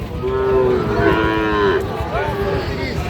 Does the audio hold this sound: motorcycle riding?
no